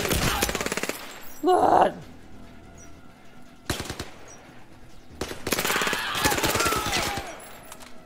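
Mac-10 with an extended magazine firing in the VR shooter Zero Caliber, loud rapid bursts in several separate volleys, close, with a brief shout between them.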